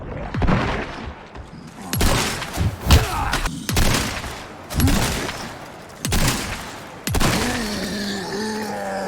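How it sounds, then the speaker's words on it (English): Riot Gun shotgun blasts hitting a brute in the Resident Evil 4 Remake video game, about six loud booming shots spaced a second or two apart, each followed by impact thuds and a lingering tail. "now let's go ahead and test the Riot Gun on a brute."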